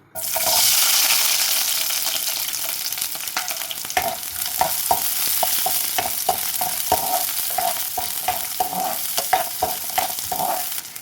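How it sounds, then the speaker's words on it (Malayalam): Shallots sizzle loudly in hot coconut oil in a pan, a constant frying hiss close by with a series of scraping and clinking stirring taps through the latter part. "വെളിച്ചെണ്ണ ഒന്ന് ചൂടായി വന്നപ്പോൾ നമുക്ക് ഷാലട്ട് ഇട്ട് കൊടുക്കാം"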